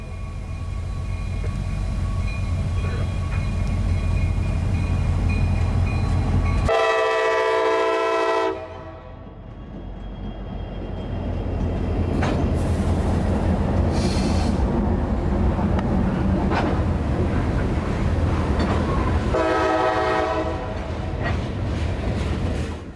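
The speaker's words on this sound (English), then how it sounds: "set up on the Brunswick sub as M691 slowly rolls by on their approach to Rice Yard." Freight train M691 rolls slowly past on the Brunswick sub, led by a flared-radiator SD70 Mac and an AC4400. A steady locomotive rumble is broken by two loud horn blasts, one early and one near the end.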